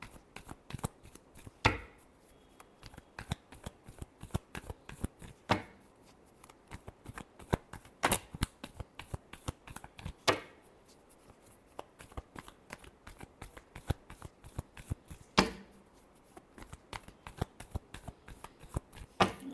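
Tarot cards shuffled by hand, a rapid close run of crisp riffling flicks and slaps repeating in bursts with short pauses between, clear and alone.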